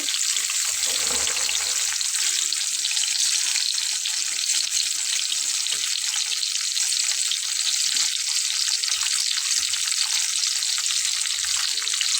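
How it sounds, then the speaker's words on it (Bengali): Fish frying in a pan for a Bengali mashed-vegetable (bhorta) and rice meal gives a steady, loud, even hiss of hot oil that runs unbroken throughout, with no talking. "সঙ্গে মাছটাকেও ভেজে নেব"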